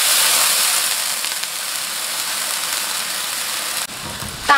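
Hot water poured onto pan-fried crucian carp bones sends up a loud, continuous hissing sizzle of steam that slowly fades, followed by a brief clatter at the end.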